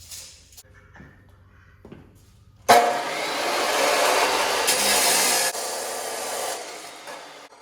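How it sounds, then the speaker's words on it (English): A power saw cuts a piece of stock to length in a home shop, a loud sustained whine that starts abruptly after a few quiet handling knocks, holds steady, then drops slightly near the end. "So I'm gonna cut this piece to that."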